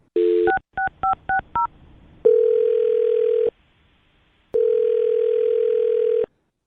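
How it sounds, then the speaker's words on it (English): A telephone plays a quick run of about six touch-tone dialing beeps, then two long, steady ringback tones separated by a second of silence. The tones are loud and clear with no talking. "I'm going to dial her phone number right now"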